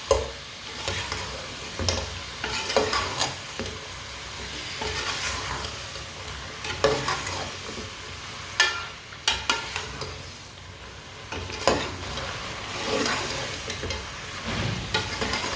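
Turnips fry in a pan with a soft, continuous sizzle while a spoon stirs them, its scrapes and knocks against the metal recurring irregularly at close range.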